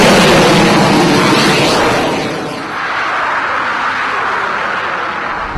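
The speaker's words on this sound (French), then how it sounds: "que se passerait-il si vous allumiez la plus grosse allumette du monde?" A giant match with a head as big as a basketball flares alight in a loud, roaring burst that swells to a peak early on, then settles into a steady, broad, fiery rush that persists at full strength.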